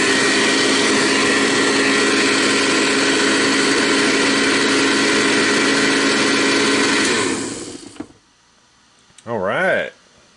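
A Eureka 630D vacuum cleaner runs with a loud, steady motor whine and whoosh of air, then spins down and stops near the end, followed by a short voice.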